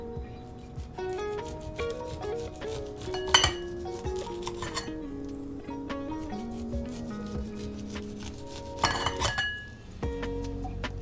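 A sharp knife slices fresh summer corn kernels off the cob into a bowl, giving soft scraping and light clinks against the bowl under steady background music.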